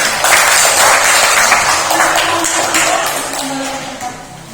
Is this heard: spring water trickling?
no